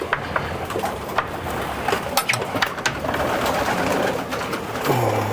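Pigeons coo steadily inside a racing-pigeon loft over a busy background of fluttering and scuffling, with occasional sharp taps and knocks nearby.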